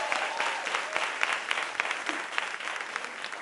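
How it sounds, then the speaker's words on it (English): Audience applause at a political rally for a gubernatorial campaign in Brooklyn, a dense, steady clapping from a sizable crowd sustained at even loudness throughout with no talk over it. "Give her a big round of applause."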